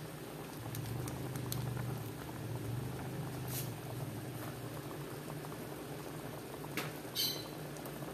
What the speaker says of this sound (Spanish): Vamos a dejarlo que hierva por un rato